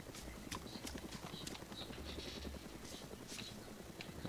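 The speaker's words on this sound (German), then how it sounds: "Ich höre den Helikopter wieder." A helicopter's rapid rhythmic rotor chop in the video game DayZ, thudding steadily overhead at moderate distance and fairly faint.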